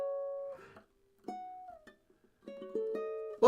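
Sparse ukulele notes and chords ring out with gaps of silence between them, a bright plucked phrase with a slightly discordant voicing, close and fairly quiet, no talking.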